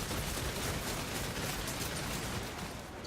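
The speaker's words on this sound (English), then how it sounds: "The Rattling Guns are so good." Skaven Ratling Guns fire nonstop in a Total War: Warhammer battle, a dense, loud, continuous rattling roar of rapid shots with no pauses, heard alone throughout.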